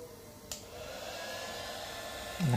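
A mini heat gun of about 300 watts blows a steady airy whoosh alongside a water heater, both powered together from a 1000 W pure sine wave power station on a 12 V 100 Ah LiFePO4 battery; a low hum rises near the end.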